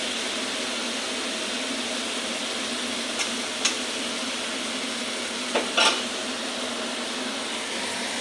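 Fried boal fish being stirred into a sizzling masala with Kashmiri chilli, a steady hiss from the pan broken by a few sharp clinks of the spoon against the vessel.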